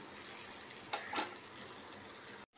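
Two onions are frying in oil with cinnamon, cloves and small cardamom for a kofta curry gravy. The sizzle is quiet and steady, with a brief stir or clatter partway through.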